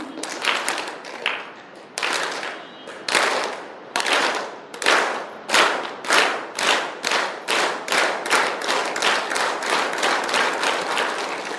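A workshop audience of mentors in a room claps and stamps on cue, starting in ragged bursts and settling into a loud, steady rhythmic beat of sharp, close, crowd-wide claps and thuds.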